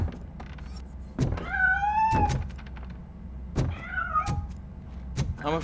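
A cat in the RoboCop: Rogue City game gives two drawn-out, rising-then-falling meows, clear and fairly close, between soft thumps and a low background hum.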